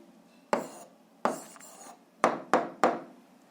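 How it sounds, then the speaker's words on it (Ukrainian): Chalk or pen marks scratched out by hand while writing an answer to a 7th-grade algebra exercise: five separate scratchy strokes in an uneven rhythm, close and fairly quiet, with no talking. "записуємо відповідь, пишемо відповідь"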